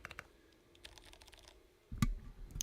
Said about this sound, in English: For those of you who like a loud keyboard.